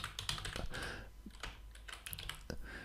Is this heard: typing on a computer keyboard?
yes